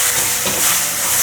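Carrot puree stir-fried in a wok for a vegan dish, giving a steady, close broadband sizzle and hiss that continues alone without pause.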